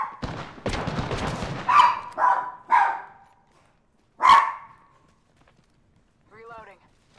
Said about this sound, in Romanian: Nu mai lătra, mă, papi, mă.